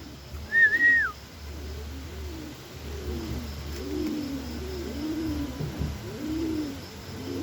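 Pigeons cooing softly in a dark loft at night, low repeated coos rolling steadily close by, with one brief higher whistle-like call near the start.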